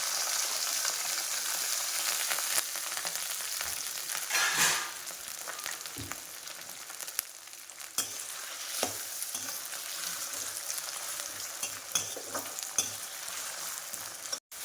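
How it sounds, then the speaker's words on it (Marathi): Finely chopped potatoes with cumin sizzle in hot oil in a kadhai. A dense, continuous frying hiss runs throughout, broken by occasional stirring scrapes and light taps, close up with no voices. "आपले बटाटे चांगले शिजले गेले आहेत तेलामध्ये चांगले फ्राय झाले आहेत"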